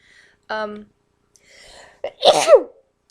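A single sharp sneeze bursts out near the mic after a few soft breaths and a brief vocal sound.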